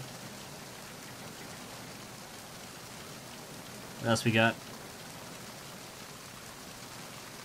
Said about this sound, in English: So you got all these cool little water effects when you're out in the rain.